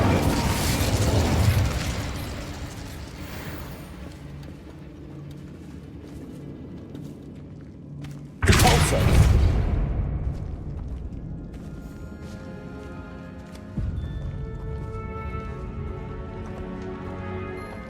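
Incendio fire spell blasts in the game Hogwarts Legacy, two heavy whooshing bursts of flame that bloom loudly and fade, set among swelling orchestral music.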